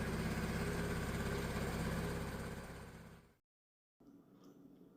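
Honda Helix scooter engine idling right after its first startup with a newly installed exhaust, a loud steady low rumble that fades out, cuts to silence, then resumes more faintly.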